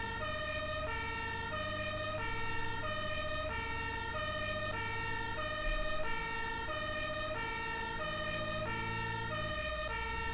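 A KdoW fire service command car drives out with its siren wailing in Landwirtschafts-Simulator 17. The siren holds a steady, looping two-tone pattern throughout, loud and continuous over a low engine rumble, with no talk.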